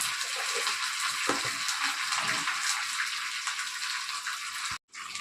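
Ghee tempering with curry leaves for sambar sizzles in a small pan, a soft, steady hiss that cuts off abruptly near the end.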